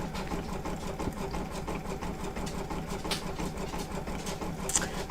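An embroidery machine stitches satin stitches over an applique, a steady rapid whirring hum that runs continuously at moderate level with no talk.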